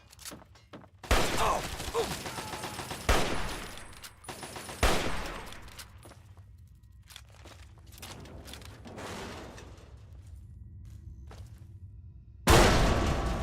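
Bursts of gunfire in Fallout 3 come in loud, dense volleys that roll like a fusillade, with heavy impacts and booming hits and quieter gaps in between. A final loud burst closes it out.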